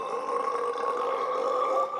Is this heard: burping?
yes